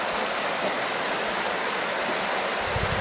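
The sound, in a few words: water flowing in Huntington Creek, Pennsylvania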